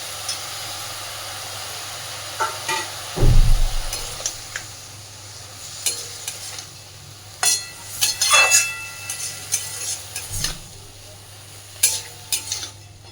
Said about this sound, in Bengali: মিনিট 2-3 শাপলাটাকে ভালোভাবে ভেজে নেব।